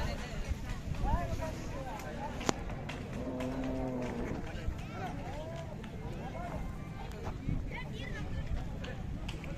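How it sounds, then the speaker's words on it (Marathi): Cattle lowing amid a noisy outdoor crowd at a Khillar cattle and bull show in Eksamba, Belagavi, with people talking throughout and a steady din of voices and movement. "ती कोंडी लाईन मेटकर यांच्या हौशा बैलाच आहे"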